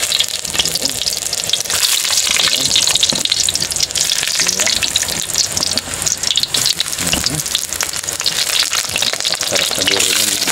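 Sliced eggplant fries in a hot pan, a loud, steady, close sizzle with crackling spatter that runs the whole time and has no clear talk over it.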